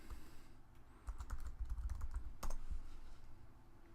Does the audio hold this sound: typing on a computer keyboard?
yes